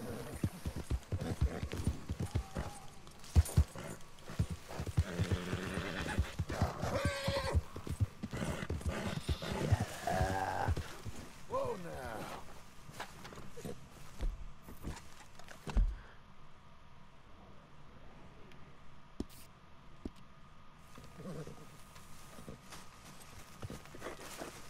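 Horse hooves clip-clop steadily in the Red Dead Redemption video game, a continuous walking-to-trotting rhythm of moderate loudness with the horse's noises and ambient game sound around it, then easing off toward the end.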